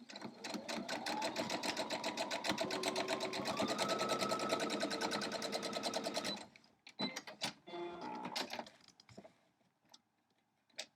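A sewing machine stitches lines across a fusible crumb quilt block in black fabric, running in a fast, steady rhythmic clatter for about six seconds, then a few short bursts and clicks before stopping, close and fairly quiet.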